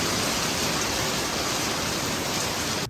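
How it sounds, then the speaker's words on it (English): Outdoor rain shower hissing as a dense, steady wash of falling drops, loud and unbroken for nearly three seconds before cutting off at the end, with no voices. "always a surprise little rain to make us run inside"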